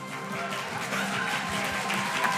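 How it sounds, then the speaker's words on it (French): Applause from a conference audience, a steady wash of many hands clapping at moderate volume for a couple of seconds. "merci pour vos applaudissements"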